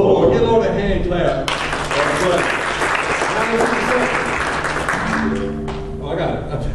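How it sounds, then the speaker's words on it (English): Church congregation clapping along during worship, dense sustained hand claps mixed with voices and music, loud and close throughout. "give Lord a hand clap."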